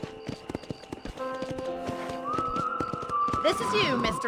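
Horse hooves clip-clopping in Red Dead Redemption, a regular trotting rhythm of hoof beats under whistled music tones and a voice speaking over it.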